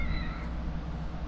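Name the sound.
cat meowing in video game The Evil Within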